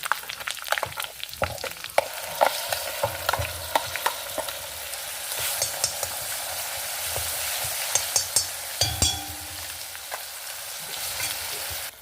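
Curry leaves and tomato chutney hit a mustard-seed and crushed garlic tempering, a loud, dense close sizzle with crackling spits and repeated stirring scrapes throughout, no voices.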